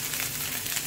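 Preheated olive oil in a pan gives a close, steady sizzle with faint crackles in one brief burst.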